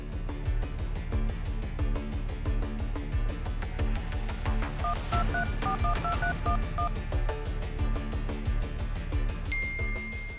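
A short run of telephone keypad dialing tones, beeping in an even sequence over loud, rhythmic background music in a dramatized scene, with no talk.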